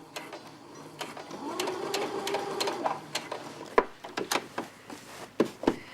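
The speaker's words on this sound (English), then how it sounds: "starting at the bottom at the seam, just stitch across" A sewing machine set to a regular stitch length runs across a fabric seam in a steady, close whir, followed by several short bursts of stitching with brief pauses between them.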